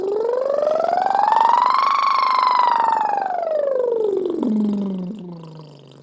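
A voice imitates a siren in a vocal warm-up, sliding smoothly from a low hum up to a high pitch and back down again, loud and alone, ending in a low fading tone.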